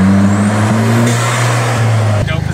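An Audi engine fitted with an ECS intake, running at a loud steady drone with rising turbo whine, then a rapid fluttering wastegate chatter near the end, heard close up.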